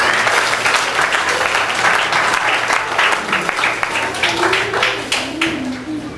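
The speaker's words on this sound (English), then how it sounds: "Let's give her a clap." An audience at a Sunday school anniversary prize-giving applauds a child prize winner. Loud, dense clapping from a crowd runs throughout, with a few voices mixed in, and fades slightly at the end.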